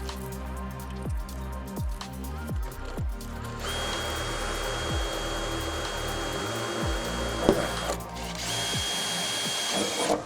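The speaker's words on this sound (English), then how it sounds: "now I'm just going to use a pilot drill bit," A 3mm pilot drill bit bores into the canopy of a 2023+ Ford Ranger/Raptor, a power drill whining steadily and loudly up close in several bursts, with higher-pitched spinning as the bit runs through.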